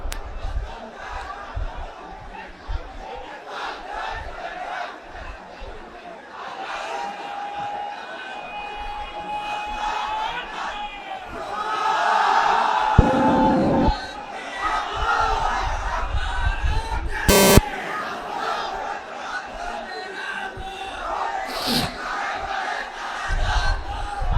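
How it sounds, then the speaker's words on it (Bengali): A large crowd at an outdoor Islamic sermon gathering in Lalmonirhat chants takbir in unison, the massed voices swelling loud and roaring in waves, with brief sharp peaks and general crowd noise throughout. "লিল্লাহে তাকবীর, লিল্লাহে তাকবীর, নারে তাকবীর"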